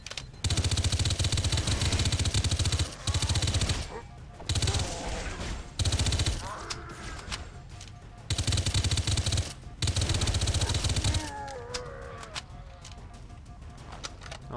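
Rapid bursts of automatic gunfire from guns in the Halo SPV3 mod of the Halo video game come in several loud volleys with short pauses between them, mixed with other game effects.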